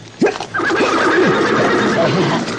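A horse neighs loudly and close by, a long wavering whinny that rises and falls, with a brief short snort first.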